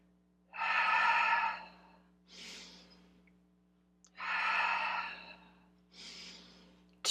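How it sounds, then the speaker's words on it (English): Deep exhalations and inhalations during a full-body Pilates workout, four long breaths alternating loud out-breaths with softer in-breaths, close and steady over a low background hum. "Keep breathing out"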